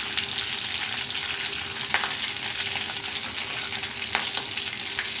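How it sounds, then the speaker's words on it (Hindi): Potato kebabs fry in hot oil with a dense, continuous sizzle and crackle, close and steady, punctuated by a couple of soft utensil taps, with no talking. "देखिए माशाल्लाह सारे कबाब गोल्डन फ्राई हो गए हैं और अब मैं इन्हें निकाल रही हूँ।"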